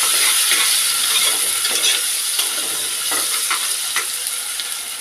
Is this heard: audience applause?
no